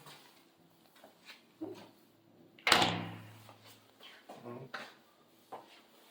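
An interior INSIDE-model door with coplanar trim and a magnetic strike plate shuts with a single solid thump near the middle, followed by faint handling noises; the rest is quiet.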